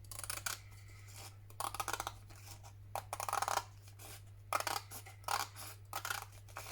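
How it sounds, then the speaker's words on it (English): Scissors snip and slide through paper for a slimline journal in a series of close, crisp cuts, irregular bursts separated by short pauses, with no talking. "I'm going to snip across there, get rid of that piece"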